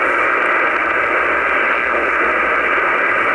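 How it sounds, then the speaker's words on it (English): A shortwave receiver in sideband mode is tuned between 5 and 7 MHz, giving a loud, steady wash of hissing static with no clear signal breaking through. "So I'm going to start tuning, and we'll go all the way up to 7 megahertz and see what we can hear."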